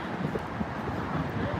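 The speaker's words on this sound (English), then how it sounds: "Ooh, it's windy." Wind buffets a microphone outdoors on an evening city street stroll in Philadelphia, a steady low rumbling roar that persists throughout the short stretch with no clear speech.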